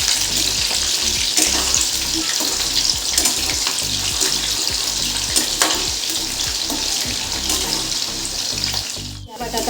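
Potato pieces fry in hot oil with a steady, loud sizzle and bubbling, broken by frequent clatters of stirring and scraping in the pan; near the end a sharp hiss rises briefly.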